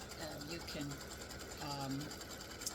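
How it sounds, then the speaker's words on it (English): Embroidery sewing machine running a placement stitch on a Christmas stocking, a steady fast mechanical whir with a voice speaking over it throughout. "I'm just going to stitch this placement stitch just because."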